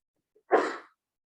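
A single sharp sneeze bursts out in a quiet lecture room, brief and fairly close, with faint breaths before and after.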